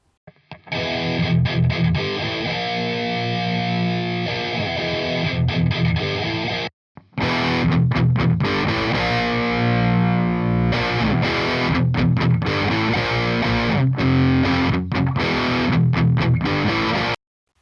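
Heavily distorted electric guitar recorded through a real amp with an SM57 microphone, playing dense, driven chords and riffs in two phrases split by a brief stop, loud and alone.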